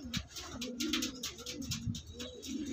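Male Andhra pigeon cooing in soft, repeated rolling coos, close by but quiet, with faint rustling around it.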